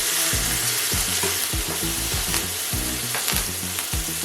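Steak searing in a hot pan gives a steady, loud, close sizzle throughout, broken by a few duller knocks as the meat is handled and turned.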